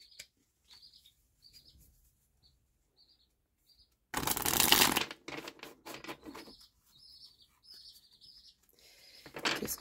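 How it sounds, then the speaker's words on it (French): Tarot cards shuffled and drawn: faint soft card flicks and small clicks, then a loud dense riffle of shuffling at mid-clip, followed by light handling and a final short burst of card noise, close up with no talk. "on va aller chercher une autre carte pour compléter ce mois d'avril"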